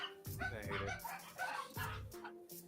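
Small dogs bark and yip in a quick, close run of sharp bursts that repeat across the moment, loud and close with no other sound on top.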